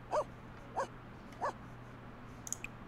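A dog in The Sims 4 video game gives three short, evenly spaced yips or barks over a steady low hum, followed by a faint brief chime.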